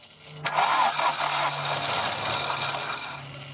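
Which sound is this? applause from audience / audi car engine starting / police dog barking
audi car engine starting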